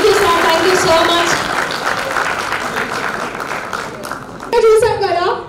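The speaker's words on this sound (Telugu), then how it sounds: "అందరం కూడా గట్టిగా చప్పట్లతో థ్యాంక్స్ చెప్పండి" Audience applause at a college cultural dance fest: dense, steady clapping throughout, with a voice speaking over the crowd and a louder swell near the end.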